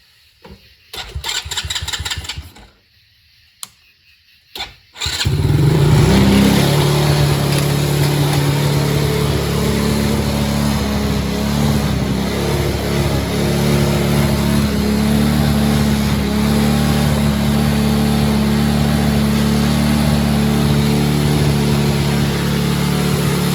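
A cheap Chinese quad ATV engine cranks briefly in a few short bursts, then catches and settles into a steady, loud idle that runs on without a break, close by and with no voices over it.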